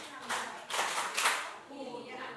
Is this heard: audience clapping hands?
yes